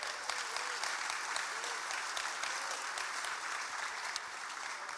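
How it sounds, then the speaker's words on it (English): At a football supporters' trust evening, the crowd applauds a guest with steady, dense clapping that holds evenly for the whole stretch, heard without talk over it. "give the magnificent Mr. Roman Kemp a round of applause, please."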